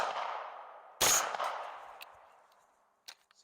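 A single loud shot from a borrowed Banshee firearm at an outdoor shooting range cracks over a fading whoosh, followed by faint distant pops and a short metallic ping near the end.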